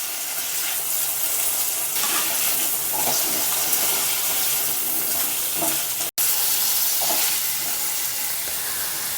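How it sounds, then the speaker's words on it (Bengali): Potatoes and ground spices including cumin powder and salt sauté in a pan, giving a continuous watery sizzle with spoon stirring scrapes and a momentary break partway through, with no talking. "মশলাটা ভালো করে কষিয়ে নিচ্ছি আলুটার সাথে।"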